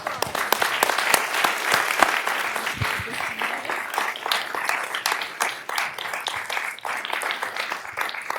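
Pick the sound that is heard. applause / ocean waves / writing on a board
applause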